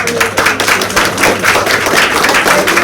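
An audience at a primary school exhibition talk claps together, a loud close burst of rapid applause lasting a few seconds with no voices over it.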